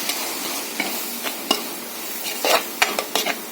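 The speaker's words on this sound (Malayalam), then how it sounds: "ഗ്രേവിക്കായിട്ട് മിക്സ് ചെയ്ത് വെച്ചിരിക്കുന്ന പൊടി ചേർത്ത് കൊടുക്കാം നന്നായിട്ട് ഇളക്കി കൊടുക്കാം" Spice powder is stirred into a sizzling prawn roast gravy in a pan, with irregular spoon clinks and scrapes over a soft, close frying hiss.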